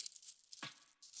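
A drone parts package is torn open: one short, crisp rip of plastic wrapping, close and fairly quiet, amid faint rustling.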